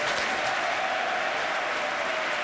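A studio audience claps loudly and steadily in a continuous wash of applause, unbroken for the whole stretch with no voices over it.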